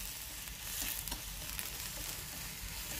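King oyster mushrooms stir-fried in oyster sauce sizzle steadily in a hot pan, a dense continuous frying hiss with faint stirring scrapes, close and fairly loud with no talk.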